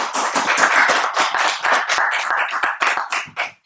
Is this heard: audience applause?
yes